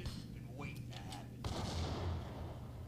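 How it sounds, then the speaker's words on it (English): A bomb goes off in the video game Max Payne, a sudden broadband blast midway followed by a rumbling tail, preceded by faint game sounds and whistling tones. "This is a bomb."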